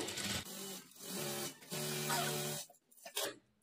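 A sewing machine stitches blouse lining along an edge with a half-inch margin, running in several short whirring bursts with brief pauses between them, close and fairly quiet.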